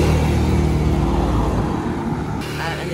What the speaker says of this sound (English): Sorry, let's wait for that car to go past.